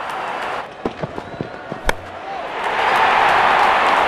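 In Real Cricket 22, a sharp crack rings out as a bat strikes the ball, set among several smaller knocks and clicks, before a stadium crowd swells into a loud roar.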